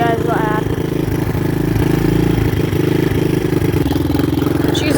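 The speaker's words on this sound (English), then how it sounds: "Just let my Honda warm up." Honda dirt bike engine idling steadily in cold weather as it warms up, a loud continuous low rumble with small fluctuations throughout, and some voice or noise faintly mixed in.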